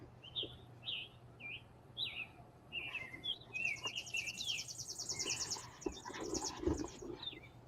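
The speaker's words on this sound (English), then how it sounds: "I love listening to the birds." Small birds chirp outdoors in short, bright tweets that come in quick bursts, rising into a busier, overlapping chatter partway through, moderately close, with a low steady hum underneath.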